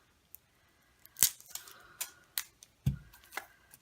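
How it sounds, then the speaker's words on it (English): A few sharp snips and crinkly clicks of scissors working through plastic, spaced irregularly, close and fairly quiet, with no talking. "I have another bit of plastic to get into. And I'm back with some scissors."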